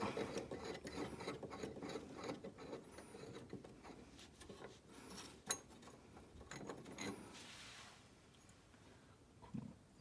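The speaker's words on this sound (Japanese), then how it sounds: "もう一回締め直したいと思います。" Screws being re-tightened on a metal reinforcement bracket fixed to the timber frame of a wooden house, giving a steady run of close grinding, ratcheting and rasping tool noise with a single sharper clank midway and no talk.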